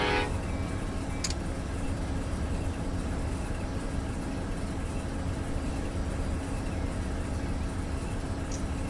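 An Amtrak passenger train in the Run 8 railroad simulator holds a long, sustained horn blast at a grade crossing over steady rumbling locomotive noise, loud and close throughout.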